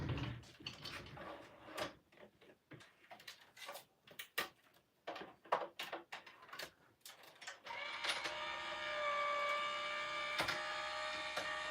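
A paper craft cutting machine runs on a card project: a series of close clicks and knocks gives way to a steady mechanical whirring hum for the last few seconds.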